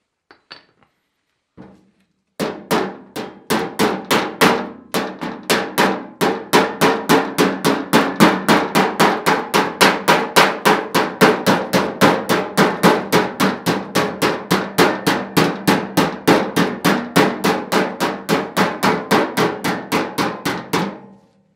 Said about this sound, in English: Whenever I'm hammering sheet metal, it's always nice and easy bouncing